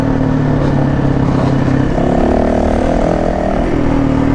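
A Yamaha WR450F dirt bike engine drones loud and close while cruising in third gear at Durhamtown Plantation, with the pitch lifting partway through and no talking.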